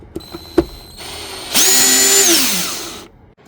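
A power drill runs on the screws holding the air filter housing of a 2021 Jeep Wrangler JLU: a few faint clicks, then one loud whirring burst of about a second and a half that winds down before stopping.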